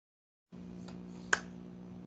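A single sharp hand clap rings out once, close and crisp, over a steady low electrical hum in a quiet room.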